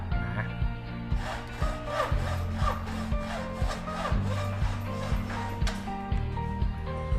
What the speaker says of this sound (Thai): ต่อมาเราจะใช้ เลื่อยตัดเหล็กนะครับ ในการตัด รางนะครับ